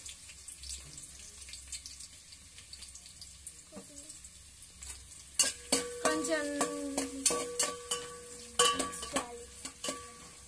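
Cumin, mustard seeds, onion and green chilli frying in oil in a pan: a quiet hiss at first, then a burst of sharp, irregular crackles and pops from about the midpoint onward, close and fairly loud.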